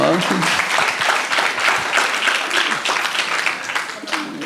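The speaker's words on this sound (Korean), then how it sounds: "박수 부탁합니다." Warm applause from a church camp congregation after a pastor's talk, brisk clapping from many hands that stays fairly even throughout, with some voices underneath.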